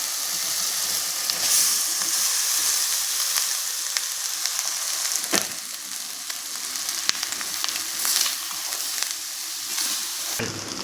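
Rice being stir-fried in a pan for veg fried rice makes a loud, steady hiss and sizzle, broken by scraping and tapping as a spatula tosses it.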